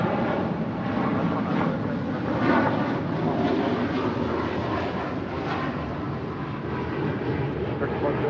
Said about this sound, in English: This is Turkish Airlines 180 departing to Istanbul on a 787-9 Dreamliner